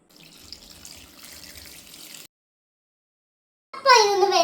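Water splashes in a short, loud burst into a pot of mango curry being cooked, following a quieter stretch of faint kitchen clatter and a moment of silence.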